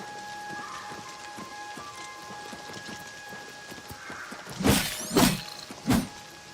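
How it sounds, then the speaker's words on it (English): Steady rain patters onto water in the game Oblivion Remastered, a soft continuous hiss throughout, joined near the end by a few louder close splashes or footfalls. "I like that you can see the raindrops hitting the water"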